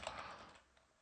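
A short, quiet patter of keystrokes on a computer keyboard, entering a package install command in a terminal, close and brief, fading out after the first half.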